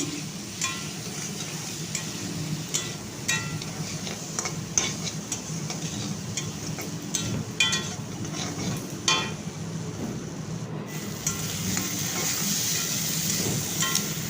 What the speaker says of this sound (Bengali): আলুগুলোকে আমি দু মিনিট সময় ধরে খুব ভালো করে ভেজে নেব